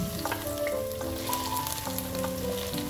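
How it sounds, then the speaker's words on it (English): Chopped okra pieces frying in a pan for a dhaba-style dry bhindi masala, giving a steady, close sizzle with light crackle and occasional stirring clinks, with no talk over it. "Look at the size of each piece and fry them till they cook well."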